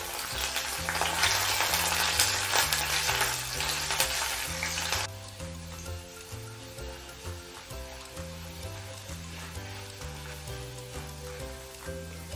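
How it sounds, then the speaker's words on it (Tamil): Kashmiri chillies, dried red chillies and a small piece of asafoetida sauté in a pan with a loud, dense crackling sizzle that drops to a softer, steady fry about halfway through, under background music. "3 காஷ்மீரி சில்லி, 3 வத்தல் மிளகாய், 1 சின்ன துண்டு பெருங்காயம் போட்டு நல்லா வதக்கிக்கலாம்."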